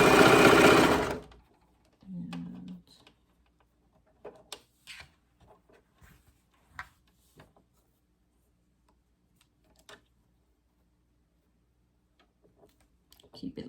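A serger runs in one brief, loud burst while stitching quarter-inch elastic onto fabric, then a short low hum follows and scattered quiet clicks of handling the fabric.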